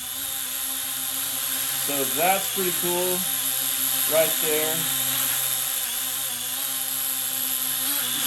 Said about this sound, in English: I've got this drone flying right here.